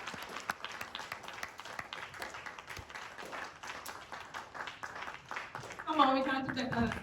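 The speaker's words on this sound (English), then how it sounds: "round of applause." A meetup audience at a developer community event in Kigali gives a quiet round of applause, sparse claps pattering at a distance, and a voice starts speaking near the end.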